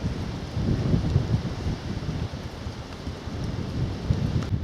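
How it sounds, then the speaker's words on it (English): Steady gusting wind buffets the microphone outdoors on a sunny, chilly walk between Ham Street and Appledore, a continuous low rumble with no voices. "Pretty breezy now, chill as well."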